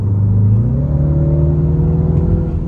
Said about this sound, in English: Now it sounds like a typical four-cylinder B48 engine with the fake sounds.